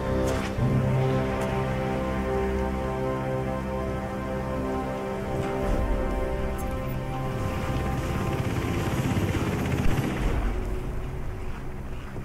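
Helicopter in the video game Hitman Absolution, a steady droning rotor hum holding throughout, blended with a dense mix of game ambience and music at moderate loudness.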